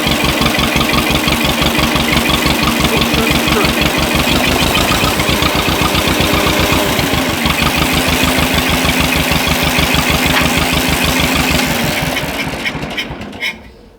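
An old tractor engine runs loud and close, a steady chugging idle with regular low firing pulses that continues for about twelve seconds before dying away at the end.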